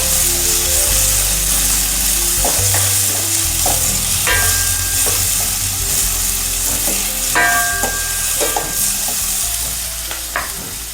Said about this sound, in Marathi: कांद्याला आणखी 1-2 मिनटं मी परतून घेते.